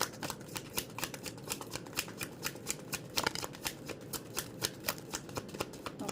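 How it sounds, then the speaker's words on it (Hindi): Tarot cards are shuffled by hand up close, producing a quiet, rapid run of crisp riffling clicks with no other sound. "okay, 1 shuffle,"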